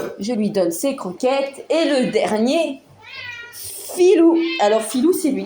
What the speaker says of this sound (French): C'est le chat qui est en train de miauler là.